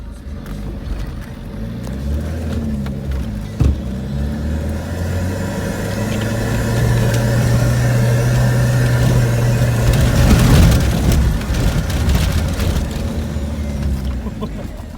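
A 4x4 engine in four-wheel low labors up a steep hill, rumbling loud and close, rising in strain through the middle and peaking near the end, with brief knocks over the drone.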